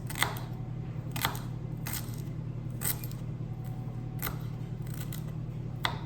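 Knife cutting food on a cutting board for a tuna noodle salad, a series of crisp, evenly spaced chops over a steady low hum, fairly quiet, with no speech.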